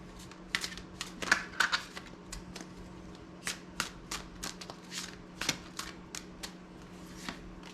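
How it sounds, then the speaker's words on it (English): Tarot cards are shuffled and drawn close by with soft papery riffles, flicks and taps coming in irregular bursts, quiet with no talk over them. "Let's start drawing some cards and see where this reading takes us."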